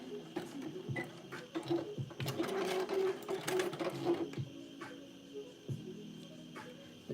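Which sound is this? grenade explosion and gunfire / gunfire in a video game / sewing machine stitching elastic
sewing machine stitching elastic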